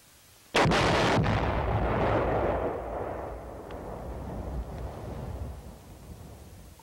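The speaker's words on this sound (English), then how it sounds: "Bangalore torpedoes, shaped charges, cratering charges, or similar special purpose charges may be used in total tunnel destruction." An explosive charge set off to destroy an enemy tunnel during the Vietnam War: one sudden, powerful blast followed by a long rumbling roar and debris that slowly fades over several seconds.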